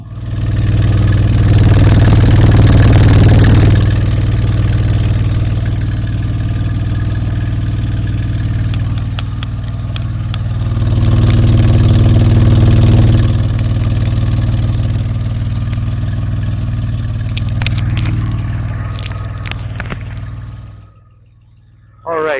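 A 1983 DeLorean DMC-12's V6 idles at the exhaust outlet, a loud, deep, steady burble with a couple of gentle swells in level before it cuts off abruptly near the end.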